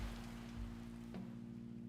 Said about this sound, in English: Everything felt dark and silent again except for the rain.